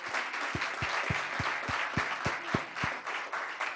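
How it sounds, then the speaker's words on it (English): Applause from a town council meeting audience, a light, fairly distant patter of hands with a few sharper claps standing out, continuing throughout at low volume with no talk. "Let's have a round of applause for the ladies from Bunches."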